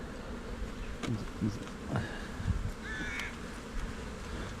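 Honeybees buzz steadily around a nucleus hive outdoors, a continuous close hum with faint bird chirps and brief soft sounds over it.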